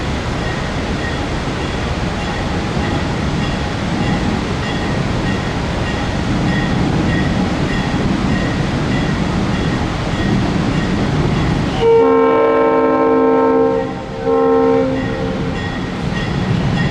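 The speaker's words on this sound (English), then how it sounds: "the day's Allegheny Winter Express emerged from the shops in West Virginia to reach the Cumberland station" Western Maryland Scenic Railroad's Allegheny Winter Express rumbles loudly past near Cumberland station, steady rolling noise then a long multi-tone horn blast with a brief break, faint voices beneath.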